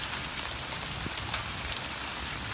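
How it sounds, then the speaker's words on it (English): Rain from Hurricane Irma pours onto surfaces as a steady, dense, close hiss with occasional sharper drops, continuous throughout and without talk. "I'm gonna jump back in the truck because it's raining"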